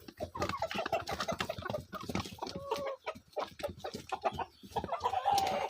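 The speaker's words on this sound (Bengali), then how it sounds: "দেখেন যে ব্রাহ্মা মুরগি কীরকম খায়।" Brahma chickens clucking steadily while they feed eagerly on beetle larvae, a dense run of close, overlapping clucks and soft calls from several birds with a brief higher crow-like note near the end.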